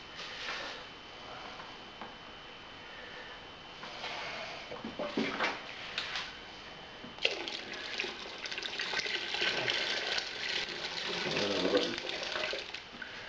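Water pours into a Robobrew/Brewzilla electric brewing kettle on a wet hop ale brew day. It rushes and splashes continuously, growing louder and fuller toward the end, with some handling clatter midway.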